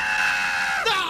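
A shrill, sustained scream from a scene in the film Casper, an imitation of the Home Alone scream, holding one pitch loudly before a sudden cracking drop near the end.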